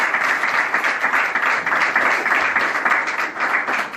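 Applause from a large audience in Paris for a Congolese musician: dense, steady clapping with a loud, continuous wash of hands and no breaks across four seconds.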